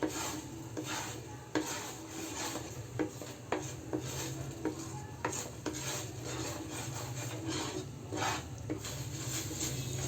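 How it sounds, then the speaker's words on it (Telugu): Coconut halwa being stirred in a pan, faint scraping and rubbing strokes of a spoon against the pan bottom in an irregular rhythm, heard alone without talk. "సో మీరు దీన్ని మాత్రం కలుపుకుంటానే ఉండాలి"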